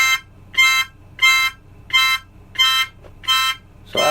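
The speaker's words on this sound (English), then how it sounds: "the alarm went off." An alarm beeps in a steady repeating pattern of about seven loud, bright electronic tones, each roughly a quarter second long with short gaps, sounding close and alone with no talking.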